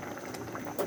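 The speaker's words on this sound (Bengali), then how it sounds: "আমাদের ডালটা অনেকটা ফুটে গেছে" Dal with winter vegetables bubbling in a pot, a dense continuous boil of small pops and gurgles heard up close for under a second.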